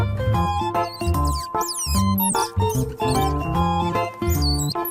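A squirrel gives quick, high squeaks and chirps in short bursts, sounding over a steady tonal background.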